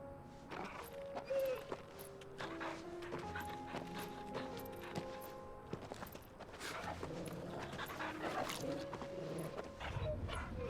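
A dog in the action role-playing game Final Fantasy 16 whimpers and barks amid clopping hooves and footsteps, with game music and effects running throughout and voices speaking intermittently.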